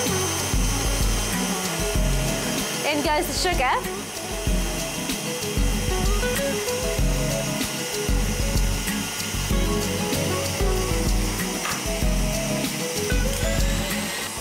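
An electric mixer creams butter and sugar for a date and pecan cake with a loud, steady motor whir that runs throughout. A brief spoken remark is heard over the noise.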